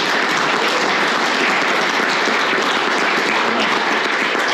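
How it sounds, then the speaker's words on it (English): Audience at a gaming industry summit session claps in a loud, continuous round of applause lasting several seconds, with no speech over it. "let's give them a round of applause"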